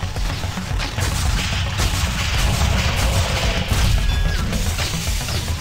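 Steady, loud video-game gunfire: a continuous fusillade of overlapping shots and crashing impacts lasting several seconds without pause.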